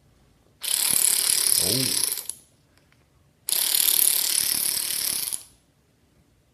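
An obsolete 1/4 inch cordless ratchet buzzes in two steady whirring runs of about two seconds each, separated by a short pause, close and fairly loud, with a brief spoken exclamation during the first run.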